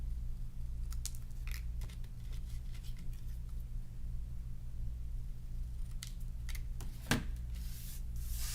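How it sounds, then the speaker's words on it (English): Scissors snipping the points off a paper card for a stamping kit project, a handful of close, crisp cuts scattered over a low steady hum, with no talking. "I think I'm gonna cut those points off."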